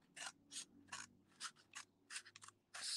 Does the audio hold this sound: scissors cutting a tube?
yes